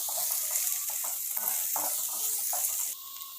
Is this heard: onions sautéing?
yes